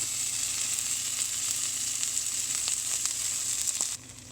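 An egg dish with salsa and cheese sizzles steadily in a frying pan, a close, constant crackle with a few soft scrapes as it is flipped, the frying dropping quieter near the end.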